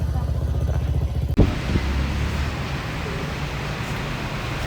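A motorcycle engine idles with a steady, pulsing low rumble, then a sharp knock cuts in and the engine settles into a rougher, continuing drone, fairly close and loud.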